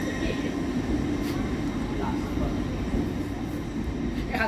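A train passes on the East Coast Main Line at Doncaster station with a steady, heavy rumble and rolling roar that holds level throughout, close and loud, with faint voices partly under it.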